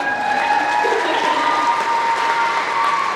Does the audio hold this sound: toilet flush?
no